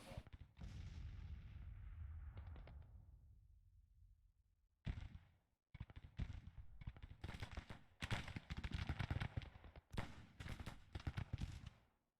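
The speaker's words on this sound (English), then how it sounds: "Get our artillery. Who has a great line of sight. Have him fire on him." Artillery fires in the Grand Tactician: The Civil War strategy game, one booming shot rumbling away and then a rapid series of sharp, loud cannon blasts in irregular clusters, with no talk.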